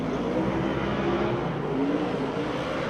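A drift car's engine at the KIR Drift Championship qualifying round revs and howls from a distance, a sustained, moderately loud roar with rising and falling pitch over constant background rumble.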